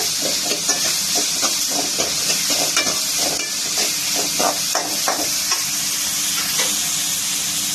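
Food sizzles steadily in a hot pan, a continuous hiss broken by frequent crackles and pops, close and fairly loud with no talking.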